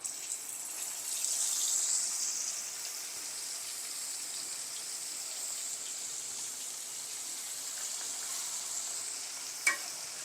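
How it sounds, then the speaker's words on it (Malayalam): Fish frying in a pan in a home kitchen, a steady close hiss of oil sizzling throughout, slightly louder early on, with one sharp tap near the end and no talking. "അപ്പുറത്ത് നമ്മൾ ഫിഷ് വറുക്കാൻ പോവാണ്."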